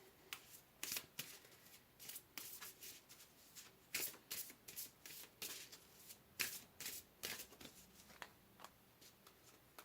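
Tarot cards shuffled and pulled from a deck, a quiet run of soft papery riffles and flicks in irregular bursts, close and alone.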